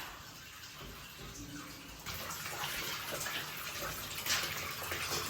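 Water running steadily from a tap while bathroom carpets are washed, quieter at first and then gushing louder and fuller halfway through, with brief splashes near the end.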